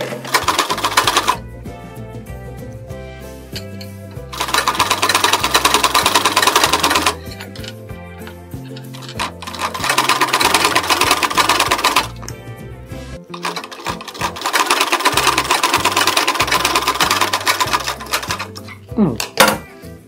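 A sewing machine runs in bursts while stitching a blouse, with a rapid clattering needle rhythm that starts and stops several times between quieter pauses, close by.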